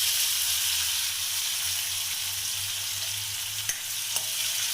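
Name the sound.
frying garlic and chopped onion in oil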